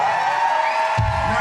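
A live show audience in a Las Vegas venue cheers and whoops loudly, a dense continuous roar of crowd noise that swells briefly near the end.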